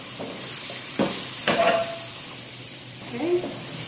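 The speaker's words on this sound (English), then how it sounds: "Now we will fry our minced garlic" Minced garlic and onions frying in a pan for leftover fried rice, a steady soft sizzle with a few stirring scrapes and knocks, and a brief voice sound near the end.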